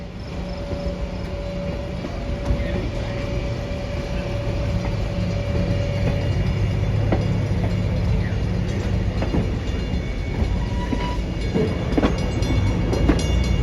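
Steam excursion train running on rails, a steady rumbling roll heard from inside a passenger car a few cars from the rear, with a continuous low drone and occasional clicks and rattles, no talk.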